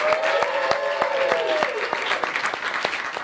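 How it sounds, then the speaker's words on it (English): An audience applauds a guest being welcomed onto the stage of a geek culture show, with steady, dense clapping throughout and a few sharper individual claps standing out close by. "Everyone give a great round of applause for her."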